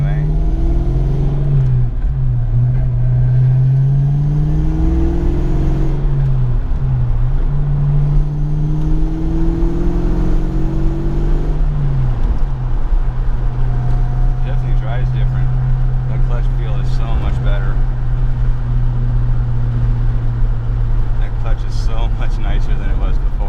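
A 1993 Ford Mustang Cobra with a TKO600 transmission drives along, its engine note rising and falling through shifts and a downshift, steady and close, with someone talking over it.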